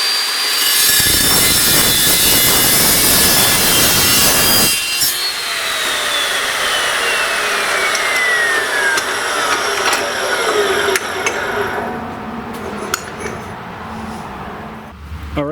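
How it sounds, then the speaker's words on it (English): An Evolution S355MCS metal chop saw cuts through clamped stainless steel pipe with a loud, steady grinding screech, its pitch sliding downward as the blade works through and then winds down. "here's a piece of stainless steel pipe, and I've got the adapters on the clamps here to hold the pipe"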